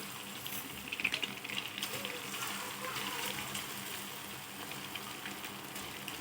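Egg pakoda fries in hot oil, giving off a steady, fairly quiet sizzle with crackling pops throughout.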